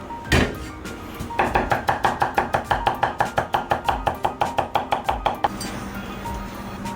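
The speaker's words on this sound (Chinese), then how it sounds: "剁成蒜米后备用" Garlic being minced with a kitchen knife on a cutting board, a rapid regular series of about twenty-five sharp chopping knocks, close and clear, after an initial thump.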